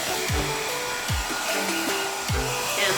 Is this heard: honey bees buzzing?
no